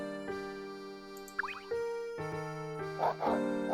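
A cartoon dog in the Professor Layton video game barks and yips several times in quick succession, bright and close, over a sustained musical backing.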